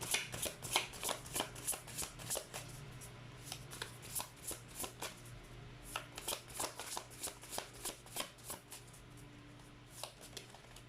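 Tarot cards being shuffled by hand, a steady run of crisp riffling flicks and soft slaps repeating every half second or so, close and fairly quiet with no talking.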